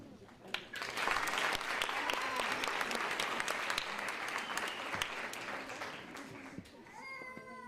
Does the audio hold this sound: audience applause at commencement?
yes